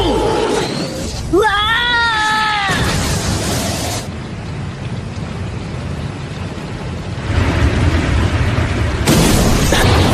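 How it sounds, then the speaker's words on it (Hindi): A Fire Style Dragon Flame Jutsu blast from a Naruto anime fight makes a loud, roaring rush of flame that swells again near the end. A voice cries out over the start of it. "Fire style dragon flame jutsu."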